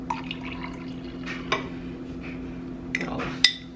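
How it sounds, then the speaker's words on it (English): Shaken espresso with brown sugar is poured into a coffee cup, soft liquid pouring and dripping with a few light clinks of glass or ceramic over a steady low hum. "Pour that into the coffee cup."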